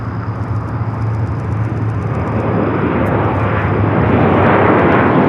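A Qatar Airways airliner at LAX roars steadily in the near distance, its broad jet rumble swelling slightly louder as it continues, with no talk over it.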